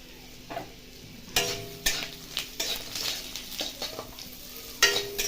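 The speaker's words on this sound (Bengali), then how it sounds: "সর্ষে এখানে ফুটে গেছে, দিয়ে দিলাম কেটে পাতলা পাতলা কেটে রাখা পেঁপেগুলি।" Thinly sliced papaya goes into hot oil with popped mustard seeds and is stirred, bringing a steady sizzle punctuated by sharp spatula scrapes and clacks against the pan, close and fairly loud, with no voices.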